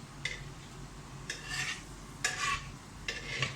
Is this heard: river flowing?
no